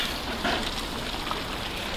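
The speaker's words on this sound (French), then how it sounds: "là il pleut" Steady rain falling at a lake, a soft continuous hiss of drops on water, moderately close and even, with no voices.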